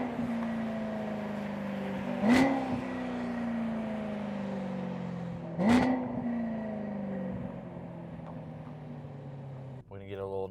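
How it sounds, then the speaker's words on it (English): A BMW M3 with a new exhaust drones steadily as revs fall, then barks out two sharp throttle blips on downshifts a few seconds apart, fairly close, with a brief rattle near the end. "Here's some downshifts for you."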